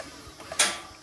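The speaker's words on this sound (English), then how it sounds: "that's the sound of the snap shackle slipping into a very dangerous situation" A single sharp metallic click from a snap shackle slipping on a hook aboard a boat, brief and close, against a soft background hiss.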